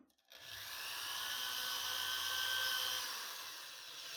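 A power drill bores a hole into a pumpkin, its steady whirring motor running close and continuous for about four seconds after a brief quiet start.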